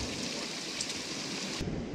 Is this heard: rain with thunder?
yes